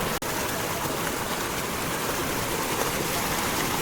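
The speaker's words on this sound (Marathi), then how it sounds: "सकाळपासून डायरेक्ट पाऊस आला" Dense, steady hiss of heavy monsoon rain pouring down in the Konkan without a break, close and loud, with no voices.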